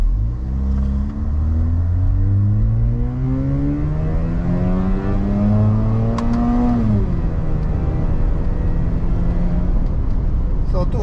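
A Mazda RX-8 rotary engine on a dyno climbs in a long, loud rev sweep to about 7,600 rpm, then drops off and winds down, with a steady roar throughout.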